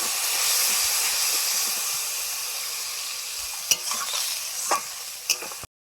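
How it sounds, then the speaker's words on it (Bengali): Spice paste with a splash of water sizzles and hisses steadily in a pan for a fish curry, a close, loud frying sound that eases slightly before a few sharp clinks of stirring near the end. "পাউডার জল দিয়ে মশলাটা কষে নিচ্ছি"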